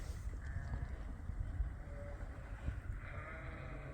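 Sheep in a ram barn in cold weather give a few faint bleats over a low, rumbling background, scattered across several seconds and heard from some distance.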